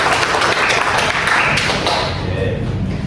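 A small counselling group in an Indonesian classroom session claps together, a dense steady patter of hands that holds through most of the stretch and thins slightly toward the end, with a few thumps mixed in.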